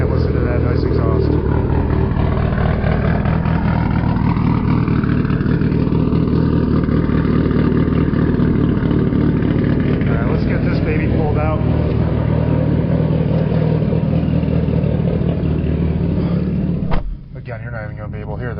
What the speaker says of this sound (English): But damn, listen to that nice exhaust.